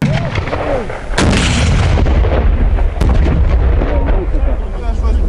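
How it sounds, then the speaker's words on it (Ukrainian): A hand-held anti-tank grenade launcher fires at a target during military training, sharp loud blasts with booming reports and a rumbling tail, heard over outdoor wind and faint voices. "Одне із завдань постріли по мішені з ручного протитанкового гранатомету."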